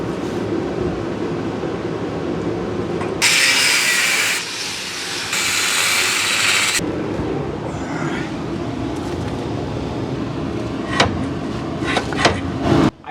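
A power cutting tool slicing through Land Rover suspension bolts, two loud harsh bursts of high grinding hiss separated by a brief pause, followed by quieter clinks and workshop noise.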